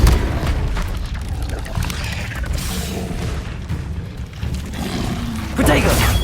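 A Depulso spell effect in Hogwarts Legacy, a heavy booming whoosh with a dense low rumble, easing mid-clip and then surging loud again with a sharp burst near the end.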